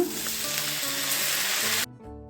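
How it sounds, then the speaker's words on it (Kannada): Tomatoes hit a hot pan with cumin and fry with a loud, steady sizzle and crackle, broken by faint stirring, before the sizzle cuts off abruptly near the end. "ಒಂದು ಕಾಲು ಟೀ ಸ್ಪೂನು ಜೀರಿಗೆ ಸೇರಿಸ್ಕೊಳ್ಳೋಣ ಈಗ ಟೊಮೆಟೊ ಕೂಡ ಸೇರಿಸ್ಕೊಳ್ಳೋಣ"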